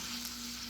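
Garlic and vegetables frying in a pan, a brief steady sizzle, close and even, with no voices.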